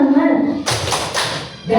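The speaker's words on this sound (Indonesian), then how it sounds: "1, 2, 3, tepuk semangat." A group of children gives a rhythmic spirit clap, a quick cluster of loud claps in a short burst. Voices are heard just before and after it.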